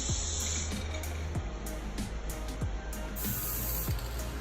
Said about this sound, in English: Make sure you spray it outwards where the wind is not gonna brush you on the face.